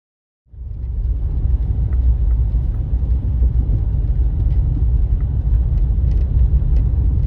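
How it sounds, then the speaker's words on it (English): A small white car rumbles past a hiking hostel near a trailhead, its low engine and road noise rising abruptly and holding steady and close. "There's a little white car."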